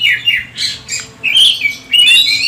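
An oriental magpie-robin (kacer) squawks aggressively in a run of harsh, loud, close calls. The calls come in quick bursts with short gaps, over a faint low background hum.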